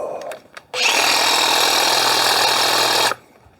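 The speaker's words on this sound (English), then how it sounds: "It's a hedge trimmer." A handheld hedge trimmer starts up after a few light clicks and knocks, then runs at a steady, loud, buzzing whine for over two seconds before cutting off abruptly, close by and alone.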